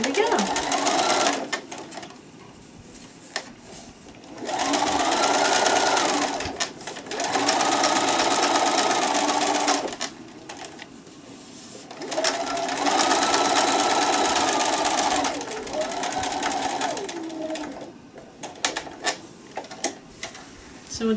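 A sewing machine stitches fabric for a gift wine bag in several separate runs of a few seconds each, with quieter gaps and light clicks between them.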